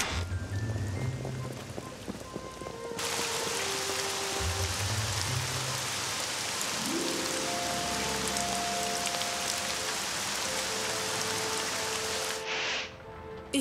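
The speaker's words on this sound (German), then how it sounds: "Ich glaube, das wird noch eine Weile regnen." Steady rain falling outdoors, a dense broadband hiss of drops on surfaces that continues throughout, with some low rumbling sounds early on and a brief dip near the end.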